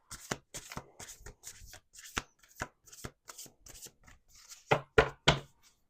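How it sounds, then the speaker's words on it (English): Tarot cards shuffled in quick crisp riffles and snaps, a series of sharp bursts with brief pauses, the last few louder and close by. "Let's do 2 more shuffles."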